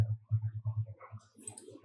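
A computer mouse clicks repeatedly while a file URL is pasted and a get-URL button is pressed, giving a quick run of soft, close clicks that slow and thin out toward the end.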